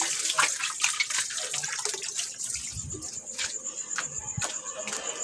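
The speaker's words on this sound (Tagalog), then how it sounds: "Ugas tayo ng paa." Tap water runs and splashes while someone washes their feet after wading in a river, a close, hissing stream with irregular splatters and gurgles, fairly quiet.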